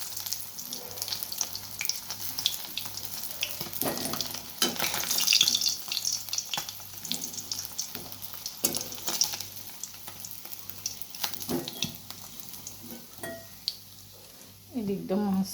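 Curry fries in a pan with a steady sizzle, broken by stirring scrapes and splashes of running water nearby, and a faint voice is heard briefly.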